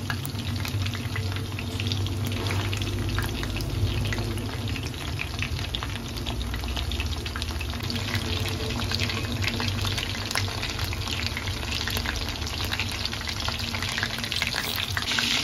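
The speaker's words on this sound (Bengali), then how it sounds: "এরপর আরও আমি 2-3 মিনিট ভালো করে ফ্রাই করে নেব চিকেনগুলোকে কিন্তু খুব ভালোভাবে ফ্রাই করতে হবে" Chicken wings frying in hot oil, a dense, even crackling sizzle that holds steady throughout at moderate loudness, close by, with no voices.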